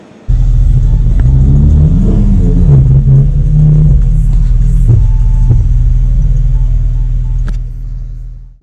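A 2018 VW Golf 7 GTI facelift with a custom-made exhaust line revs up close, a loud deep rumble rising and falling through a few throttle blips before settling and fading.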